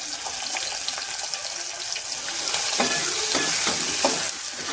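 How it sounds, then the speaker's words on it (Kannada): A finely chopped medium onion and crushed garlic fry in a pan for a fenugreek-leaf lentil dal. A steady close sizzle runs throughout, with scraping stirs joining in the second half. No talking. "1 ಮೀಡಿಯಮ್ ಸೈಜ್ ಈರುಳ್ಳಿನ ಸಣ್ಣದಾಗಿ ಕಟ್ ಮಾಡಿಬಿಟ್ಟು ಹಾಕ್ಕೊಳ್ತಾ ಇದ್ದೀನಿ"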